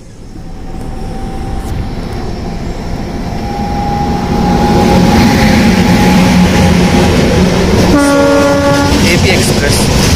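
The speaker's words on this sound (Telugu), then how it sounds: "AP express New Delhi to Visakhapatnam. Towards Visakhapatnam వెళ్తుంది." The AP Express from New Delhi to Visakhapatnam passes, its rumble and rattling wheels building to a loud roar as it nears, and then a horn blast sounds near the end.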